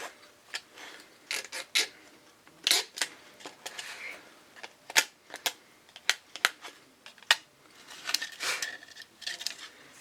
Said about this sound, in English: I just want to get my knife and just clean off some of this burr of the plastic